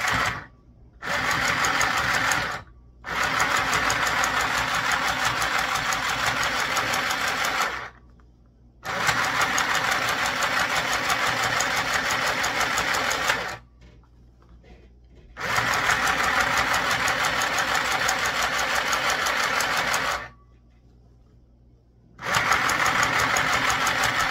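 A small sewing machine runs a double stitch in several sustained whirring bursts separated by short pauses, close and steady with no talking.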